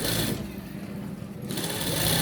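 An electric sewing machine running steadily as it stitches along a pressed two-piece shirt collar, a continuous close whirring hum that dips briefly in the middle, with no voices.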